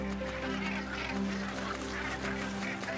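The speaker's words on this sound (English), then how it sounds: "Bonaventure Island, the largest northern gannet colony in North America." A dense northern gannet colony on Bonaventure Island calls continuously, a steady layered din of harsh, honking seabird cries from many birds, loud and unbroken with no talking.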